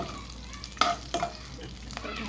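Vermicelli frying in ghee for payasa, a quiet hiss of cooking broken by a few sharp clinks and scrapes of a spoon against the pan.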